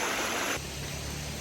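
A waterfall roars as a dense, steady hiss of rushing water that shifts abruptly in tone partway through and then stays constant, with nobody talking.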